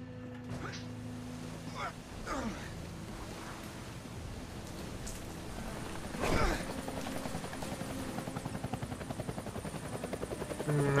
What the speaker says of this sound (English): I hear a helicopter. That's the helicopter chasing my friends.